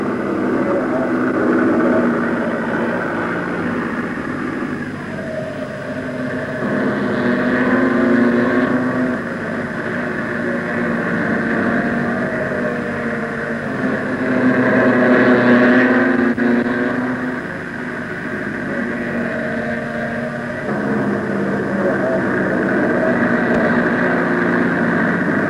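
Pre-war vintage racing cars, including a Bentley Napier, at a 1973 circuit race, a steady engine drone swelling and fading as cars pass, heard under continuous narration.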